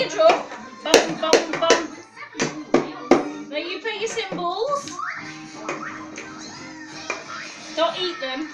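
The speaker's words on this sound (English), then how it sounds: "Clap, clap," Several sharp hand claps ring out close by in quick succession early on, then give way to children's voices talking and playing during an attempt to form a band.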